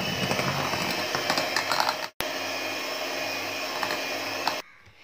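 Electric hand mixer beating eggs for a cake batter, a steady loud whirring drone that cuts out briefly, resumes, then stops near the end.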